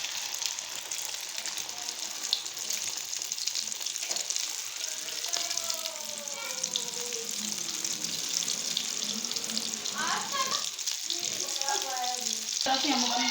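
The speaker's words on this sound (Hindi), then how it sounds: "फ्राई करते हैं, अपने शामियों को।" Shami kebabs dipped in egg sizzle and crackle steadily in hot oil, a constant close frying hiss with occasional sharper pops and clinks, and a faint voice in the background.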